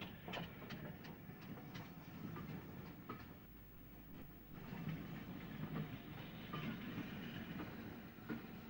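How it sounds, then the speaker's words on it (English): A preserved train arriving at Bluebell Railway station in England, rolling in with a soft hiss and rhythmic clickety-clack of wagon wheels over rail joints, heard at moderate distance and fairly quiet, with no talking. "The last train of the day has just arrived"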